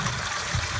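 Water gushing steadily from a sump pump discharge pipe in a basement, a continuous close rushing wash with low-end surges, heard alone.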